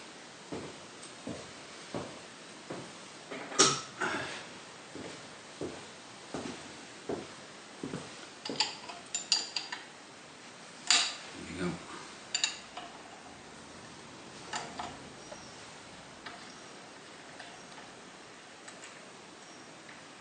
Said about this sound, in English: I'll take these two nuts off now.